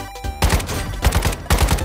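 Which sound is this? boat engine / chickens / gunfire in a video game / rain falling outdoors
gunfire in a video game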